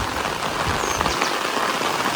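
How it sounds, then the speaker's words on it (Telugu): Rain falls steadily in a forested area, a dense, close hiss of drops on surfaces that fills the moment without pause. "వర్షం కురుస్తోంది ఎంత బ్యూటిఫుల్గా అనిపిస్తుందో చూడండి"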